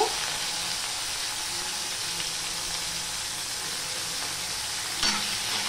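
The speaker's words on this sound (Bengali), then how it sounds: "এবার এই উচ্ছেগুলো না, করলাগুলো আমি ভেজে নেব।" Bitter gourd (karela) pieces coated with salt and turmeric frying in hot oil make a steady, close, bright sizzle that holds evenly throughout, broken by a brief clatter near the end.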